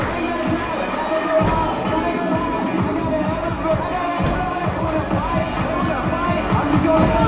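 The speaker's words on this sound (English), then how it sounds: "And the crowd is alive here in Minnesota." A crowd at a martial arts tournament in Minnesota, the Diamond Nationals, cheering and clamoring steadily throughout, with a dense roar of voices and scattered claps and shouts.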